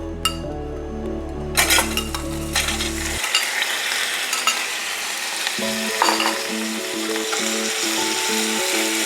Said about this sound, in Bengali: সামান্য একটু তেল দেবো, এক চামচ মতো দিয়ে চিকেনটা দিয়ে দেবো, ভাজতে দেবো।